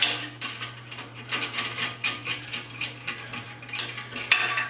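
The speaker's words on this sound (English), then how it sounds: "So we got these screw clamps, and I'm undoing those." Screw clamps on the exhaust heat shield of a 2016 Harley Tri-Glide being undone with a tool, giving a string of close, quick metallic clicks and scrapes that continue throughout over a steady low hum.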